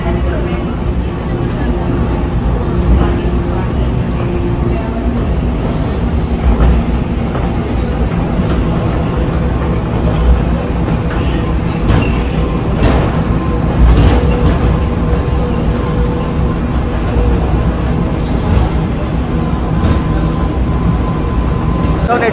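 Rumbling train noise fills busy Chembur railway station, with steady low machinery hum, occasional metallic clanks and people talking in the background throughout.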